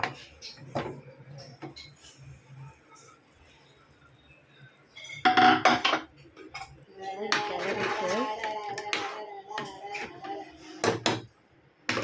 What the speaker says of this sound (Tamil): லிட்டை ஓப்பன் பண்ணி பார்க்கலாம்.